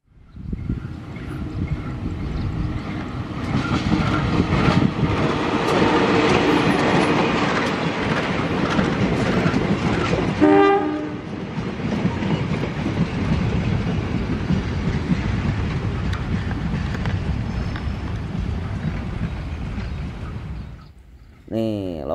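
A Lokal Bandung Raya local train pulls into Cimekar station on track 2, its loud continuous rumble and wheel clatter filling the scene, with a brief screech of wheels midway and a steady roar as the cars roll past close by.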